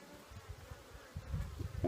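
Honey bees buzz around an open hive that has been split, a close, continuous droning hum with a brief louder swell near the end.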